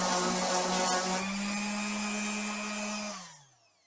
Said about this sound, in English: a more aggressive way would be with a palm sander